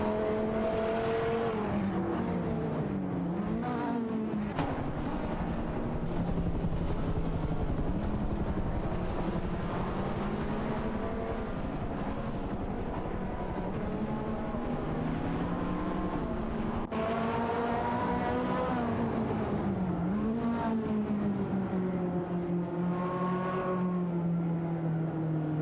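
Race car engines in a racing video game, including a Kia and a Ferrari F355, roar and whine continuously, pitches sweeping up and down as cars accelerate and shift, loud and unbroken with no talk.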